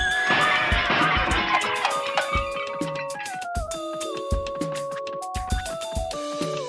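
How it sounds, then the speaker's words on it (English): A horse neighs in a cartoonish museum video game, a loud whinny opening over a busy musical backdrop with falling melodic tones and light percussive hits through the rest. "Wait, there's a horse up here, too."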